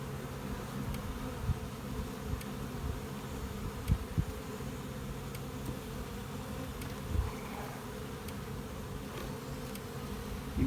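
Honeybees in overwintered nucleus colonies on an early spring day fill the air with a steady, dense buzz, close and continuous, with a few faint clicks and bumps scattered through it.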